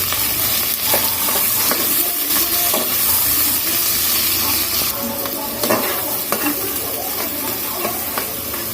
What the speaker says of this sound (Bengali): তো এখন আমি পেঁয়াজটাকে দিয়ে দিচ্ছি। পেঁয়াজটাকে দিয়ে এখন আমি মরিচটাকে দিয়ে দিলাম। এখন এটাকে আমি ভেজে নেব।